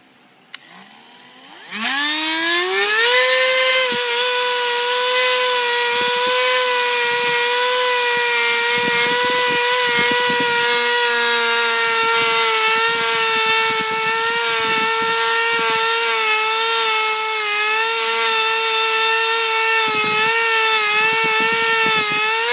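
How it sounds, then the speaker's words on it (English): A Dremel rotary tool fitted with a paint-stripping attachment works the edges of window glass during a broken-window repair. It spins up after about two seconds into a loud, steady, high-pitched whine that holds continuously, with brief rough grinding flickers where it bites. "we're going to be doing a bit of dremeling here"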